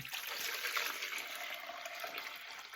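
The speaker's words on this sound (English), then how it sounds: "And then I'm going to pour some into this." Kombucha pours into a container in a steady, continuous trickling stream, quiet and close, with no talking over it.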